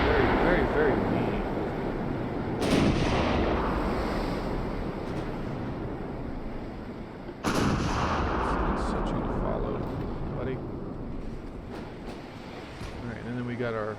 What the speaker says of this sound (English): Go ahead and focus the battleship's secondary guns.